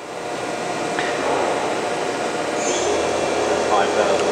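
A Kitamura vertical machining center with a 40-taper spindle running at 3,000 RPM gives a steady, quiet mechanical hum and hiss throughout, fairly even in level, with faint whine tones drifting in over the drone.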